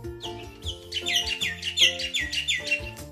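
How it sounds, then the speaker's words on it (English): Chirping bird sound effect for a red bird in a children's read-aloud story, a bright run of quick repeated tweets and chirps, clear and close, with a low tonal music bed beneath and no talking. "I see a red bird looking at me."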